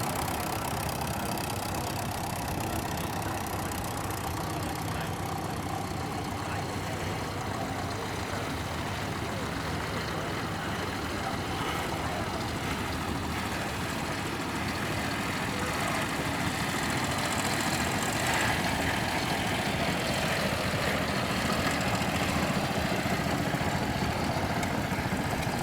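A little grey Ferguson tractor, built at Banner Lane in Coventry, idles steadily at a tractor show. The low engine rumble stays constant and moderately loud throughout, with outdoor background noise.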